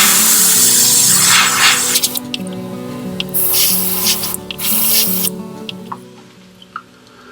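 An airbrush sprays fluorescent yellow paint onto a segmented walking bait lure in several short hissing bursts over a steady low compressor hum, starting and stopping at close range.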